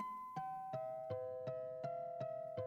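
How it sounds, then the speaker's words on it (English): A soft plucked guitar-like synth melody steps downward in pitch, with evenly spaced notes that ring faintly over light percussive ticks, and no voices. "it's just like this trickling down melody, which is this like guitar"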